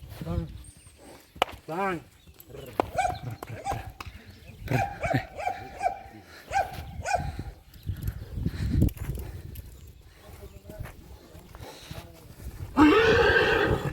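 A stallion neighs loudly several times in shrill whinnies near a mare, with people talking, hooves shuffling and a dog barking nearby.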